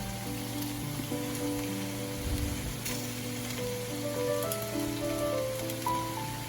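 Diced capsicum and spring onion bulbs fry in a pan for veg fried rice, a steady rain-like crackle and hiss running throughout over a faint tonal background hum, with no voices.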